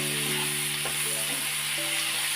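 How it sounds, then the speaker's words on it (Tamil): Ingredients sauté in butter and oil for a paneer butter masala, giving a steady close sizzle with a few light stirring scrapes over the hiss. "இந்த எல்லா இன்க்ரீடியன்ஸும் போட்டு வதக்கிக்கலாம்"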